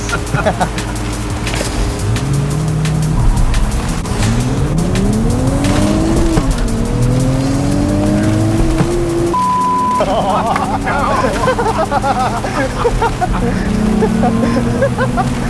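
A pre-production electric car launches hard in an acceleration run, its rising motor whine sweeping upward in steps over constant road and wind roar, loud and close, with a voice talking partway through.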